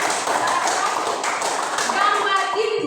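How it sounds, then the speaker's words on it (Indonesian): A classroom of students claps in applause for a picture during an Indonesian history lesson, a steady burst of many hands patting together at close range for about three seconds, with a voice faintly mixed in. "Ya, berikan aplaus dulu untuk"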